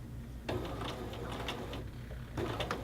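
A sewing machine stitches a men's shirt seam, running forward and then backstitching. Its steady close whirring hum and needle clatter keep going without a break, and the clatter swells in two louder runs.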